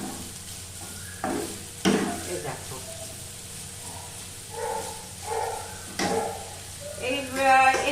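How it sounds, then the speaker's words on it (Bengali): Chopped onion frying in oil in a home kitchen pan, a low steady sizzle with occasional stirring scrapes, while someone talks briefly over it. "পেঁয়াজ কুচিটা দিয়ে একটু তেলের মধ্যে পেঁয়াজ কুচিটা একটু ভাজা ভাজা করবো।"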